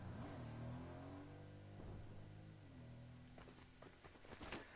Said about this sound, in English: I hear somebody coming in a car.